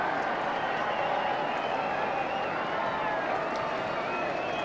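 Australian Rules football crowd in a Sydney Swans versus Richmond Tigers match applauding as a player leaves the ground, a broad steady roar of distant clapping and cheering that fills the whole stretch evenly.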